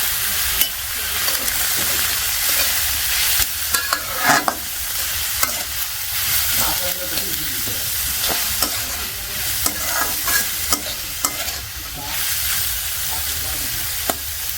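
Onions frying in a pan with ginger and garlic paste, a continuous loud sizzle under repeated scraping stirs and clatter from the spoon, close by, with no clear talking.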